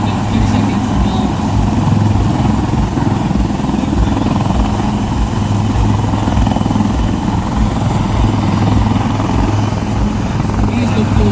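Army crew helicopter hovering during a rope-drop demonstration at a Vijay Diwas celebration, a loud steady rotor and engine drone with a constant low thrum throughout, a voice speaking over it at times.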